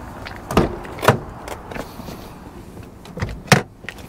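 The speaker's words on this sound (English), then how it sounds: "It's French, so I've got to open the passenger door." Passenger door of a Citroen C4 Picasso opening, with a few sharp mechanical clicks and clunks near the mic, spaced apart over a quiet background.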